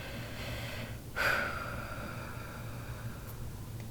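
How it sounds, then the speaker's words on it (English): A single loud, close breath, a sharp snort-like inhale or exhale, taken as a breathing exercise in a quiet room, then steady faint background hiss. "gonna do some breathing exercises real quick."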